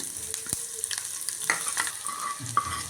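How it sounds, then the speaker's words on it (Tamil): Shallots, green chilies and curry leaves sautéing in oil for a Tirunelveli-style white curry, a close, steady sizzle broken by sharp spoon clinks and scrapes against the pan; no one speaks. "சின்ன வெங்காயம் பச்சை மிளகாய் ரெண்டு கருவேப்பிலை போட்டு நல்லா வதக்கிடுறேன்"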